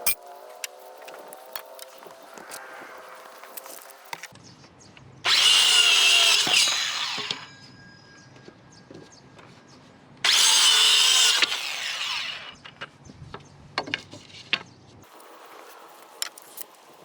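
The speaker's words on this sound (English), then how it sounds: "I'm just gonna cut some cedar boards to fill that in" Ryobi power saw cutting cedar boards in a greenhouse, two loud sustained bursts of cutting about five seconds apart, with quieter clatter and handling noise between them.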